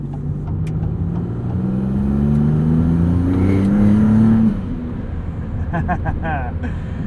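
Maserati MC20 engine, a 2022 model, revving up in a rising pull as the car drives, then easing off, with someone talking over the engine noise throughout.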